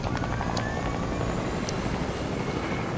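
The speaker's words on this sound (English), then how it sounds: "Helicopters are back." Helicopter in a video game, a steady loud rotor whir and engine drone filling the whole stretch without letup, with no voices over it.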